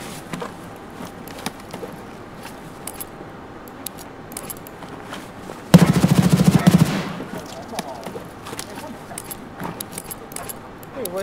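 A rapid burst of automatic gunfire lasting about a second in the video game Escape From Tarkov, loud against quieter background clatter and shuffling, with players talking.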